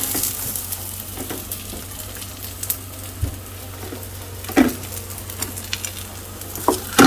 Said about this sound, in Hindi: ये रोटी सी बनी हुई है, जैसे मैंने कहा चलो अच्छी तरह से पका लूँ